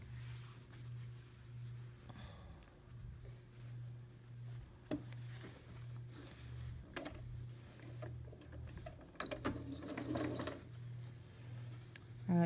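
Sewing machine stitching a quilt block, a low mechanical whir that starts and stops in short runs, fairly quiet beside scattered handling noises, with no talking.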